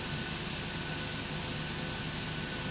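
Jet engines of an airliner run steadily in the X-Plane flight simulator at New York JFK, a constant broadband roar with a low hum, heard alone at moderate level.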